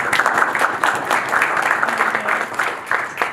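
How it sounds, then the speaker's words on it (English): A meetup crowd at a ReactJS Columbus gathering claps for the hosts who provided drinks and space, a brief, moderately loud burst of scattered hand claps from a small group. "quick round of applause for them"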